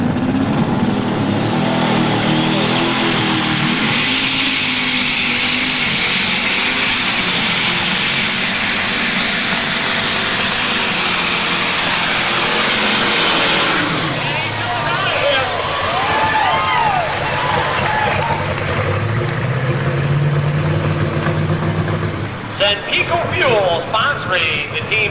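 A super stock pulling tractor roars steadily at a 1997 tractor pull in Ionia, Michigan, a loud, sustained engine drone with a rising pitch, while an announcer talks over it throughout.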